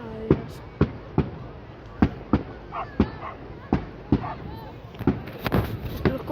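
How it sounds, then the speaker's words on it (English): Fireworks burst outdoors in a steady series of sharp, loud bangs about every half second, followed by crackling pops near the end. "Look at those fireworks."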